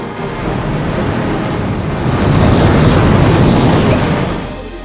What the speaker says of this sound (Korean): 마침내는 어마어마한 불덩어리로 폭발됐다